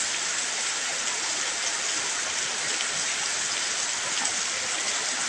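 Continuous heavy rain pours down in a uniform, close hiss with no pauses or other sounds.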